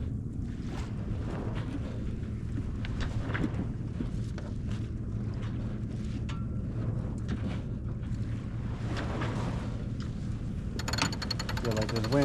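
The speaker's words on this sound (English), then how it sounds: "Feel like there's wind right there." Wind buffets a sailing yacht during a regatta, a steady rushing roar with water and boat noise underneath, while people talk on board.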